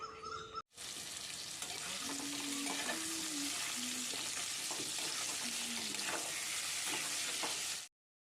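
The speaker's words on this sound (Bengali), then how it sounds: "তেলে গোটা জিরে ফোড়ন দিয়ে পেঁয়াজ কুচি লাল লাল করে ভেজে নিয়ে" Cumin seeds and chopped onion fry in hot oil with a steady, close sizzle that runs loud and unbroken, stirring scrapes faintly audible through it; a brief separate sound precedes it at the start.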